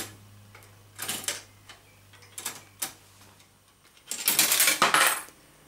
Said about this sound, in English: When a coin falls in, it's released.